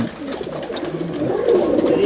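A pair of pigeons coos in soft, low, rolling calls that run steadily and fairly close throughout, with a faint background hum.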